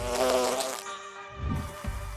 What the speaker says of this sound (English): you'll see the golden bee fly moving through the air